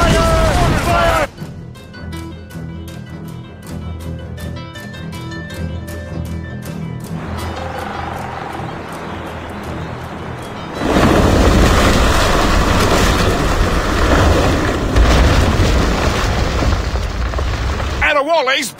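Naval cannon fire and explosions in a sea battle in Assassin's Creed Rogue, with a steady rhythmic pounding early on, then a long, loud, dense roar of blasts and booms, with shouted voices mixed in.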